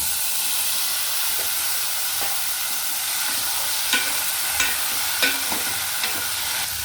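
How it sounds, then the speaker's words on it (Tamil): Chickpeas fry in hot oil with onion and curry leaves, giving a steady loud sizzle and hiss, with several sharp scraping stirs in the latter half. "சுண்டக்கடலை போட்டுக்கலாங்க."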